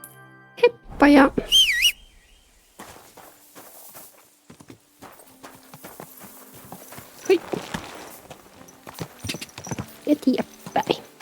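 A horse in Kingdom Come: Deliverance II clip-clops at a walking pace, each hoof distinct, while birds chirp nearby and a voice calls out briefly at the start.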